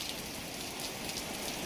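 Heavy unseasonal rain in Ahmedabad pours steadily onto surfaces, a dense, constant patter and hiss close by with no voices.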